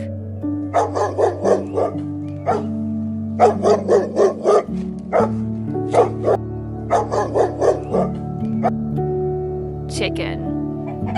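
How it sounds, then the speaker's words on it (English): A dog barks in quick clusters of sharp, close barks, several rounds separated by short pauses, over a steady low musical backing. "Dog."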